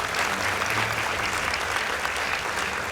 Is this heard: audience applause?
yes